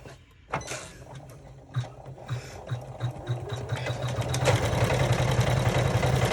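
Home sewing machine stitching a zipper and credit card slot pocket add-on, its motor whirring in steady repeated bursts that build into a fast continuous rattling run, close and fairly loud with no talk.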